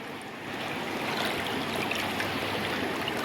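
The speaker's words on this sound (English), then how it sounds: "Just sitting in the rapids after the hike" Rushing river rapids after a hike in Nova Scotia, a dense continuous hiss of flowing water close by that swells slightly at the start and then holds steady.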